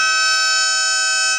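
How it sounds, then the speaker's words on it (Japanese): A harmonica sounds two notes together in one short, loud, steady chord with a bright, reedy tone that holds for about a second and a half, with no voices. "ハーモニカなんですよ。"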